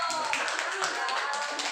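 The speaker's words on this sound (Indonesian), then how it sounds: "Nah, tepuk tangan dulu dong." An audience claps in a classroom or workshop session, a dense, steady patter of many hands filling the short stretch with no pause, while a voice speaks faintly beneath the clapping.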